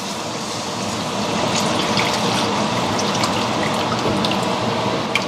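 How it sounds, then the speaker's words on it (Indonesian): Milk poured into a simmering sauce while it is stirred continuously, giving a steady close wet bubbling and swishing with liquid trickle throughout, no voices. "sekarang masukkan susunya sambil diaduk terus"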